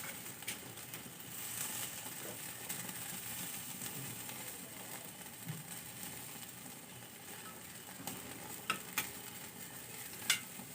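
Fish grilling as a home barbecue gives off a steady, close sizzle with a soft crackle, broken by occasional sharp clicks and taps, and no voices are heard.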